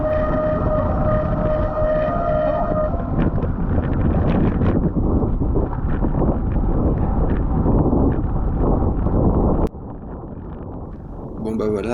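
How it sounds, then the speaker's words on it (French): Bicycle brake pads or disc brakes squeal loudly and shrilly during a rainy criterium race in Normandy, a sustained high whine over heavy wind and road noise that cuts off abruptly near the end. "vous avez pu entendre encore le beau bruit des patins ou des disques"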